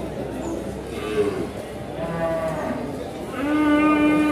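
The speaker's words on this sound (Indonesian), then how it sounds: "Yang ini ada deretan sapi-sapi pegon." Pegon cattle lowing at a busy livestock market, several drawn-out moos rising one after another over a constant crowd murmur, with one close, louder call near the end.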